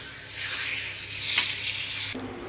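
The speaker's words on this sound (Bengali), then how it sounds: "ভালো করে নাড়াচাড়া করে নিয়ে কষাতে দিয়ে দেবো, ভালো করে কষাতে থাকে।" Food is stirred and sautéed in a pan, giving a continuous moderate sizzle with one brief scraping stroke near the middle, close by and without speech.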